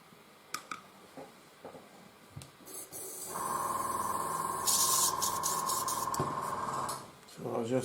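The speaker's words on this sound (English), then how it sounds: "So I'm just going to clean a little my airbrush." An airbrush being cleaned after painting a 1:35 Takom Merkava Mk 2b model with Vallejo paint, giving a steady close hiss for several seconds, with scattered ticks and clinks around it and a voice talking.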